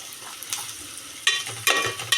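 Egg biryani masala with red chili powder and turmeric sizzles in a pan over a lowered flame. Two or three scraping stirs cut sharply through the soft frying hiss, close up and with no talking.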